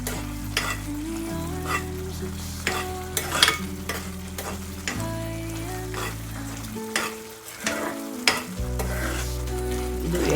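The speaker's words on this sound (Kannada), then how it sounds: "ಡೀಪ್ ಫ್ರೈ ಮಾಡಿ" Bhatura dough deep-fries in hot oil, a continuous bubbling sizzle with a few sharp crackles and scrapes of stirring, all heard over low-pitched steady background music, with no speech.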